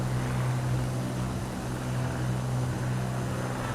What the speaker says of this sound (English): Is there a helicopter near me, or is that the sound of the Beechcraft King Air?